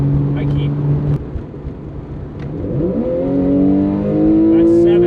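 Porsche 911 Carrera 4S engine revving up through the gears while accelerating, a steady drone that climbs in pitch after a shift, loud and close throughout.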